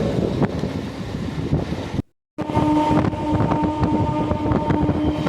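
The Kadambathur local train passes by with a steady rumbling roar and wind buffeting the microphone, broken by a brief dropout of near silence midway before the rolling noise resumes.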